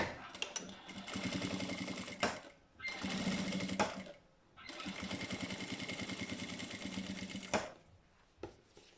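A sewing machine stitches a fabric wallet in short bursts, rapid needle chatter starting and stopping three times with brief pauses between runs, close and fairly loud.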